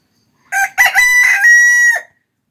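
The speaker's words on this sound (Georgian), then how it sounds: "ნახოთ ჩემი მამალა რომელიც არ ჩანს" A rooster crows once, loud and close, a full cock-a-doodle-doo with a short broken opening and a long held final note, heard alone on a household poultry yard.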